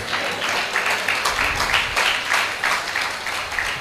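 A church congregation claps in a steady, rapid patter of many hands, moderately loud and continuous, with no talking over it.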